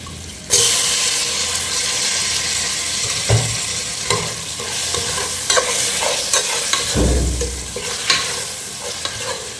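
Beef and chunks of fat fry in a pot with a continuous crackling sizzle, while a spoon stirs through and knocks against the metal now and then, loud and close.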